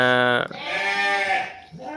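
A local sheep on a farm raising large sheep gives one loud, close bleat, followed by a rougher, breathy bleat.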